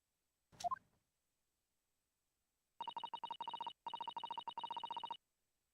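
Short repeated electronic beeps in a Morse code pattern from The Great Ace Attorney video game, two bursts of rapid even tones after a brief plop, clear and alone.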